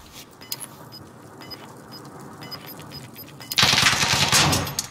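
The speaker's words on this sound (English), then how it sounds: "Shooting." Rapid automatic gunfire in Call of Duty: Warzone, a quiet start with faint distant shots, then a sudden loud close burst over the last second and a half.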